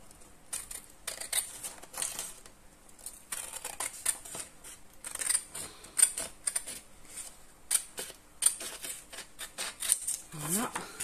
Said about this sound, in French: Donc là, on va couper cette partie. Donc la première ligne qu'on a fait de 5 cm, marche au ciseau.